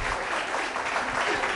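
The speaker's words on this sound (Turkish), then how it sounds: "çok büyük bir alkış daha" Audience applause at a Turkish orta oyunu folk theatre performance, sustained clapping from a crowd at fairly strong volume, with no speech heard.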